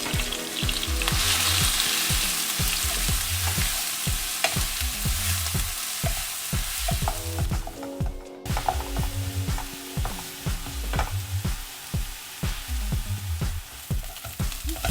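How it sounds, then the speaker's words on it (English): Grated onions fry in hot oil with a continuous crackling sizzle, punctuated by regular scraping stirs of a utensil against the pan, close and steady. "And we will just add this to the oil. And we will cook it till the time the onion doesn't go brown."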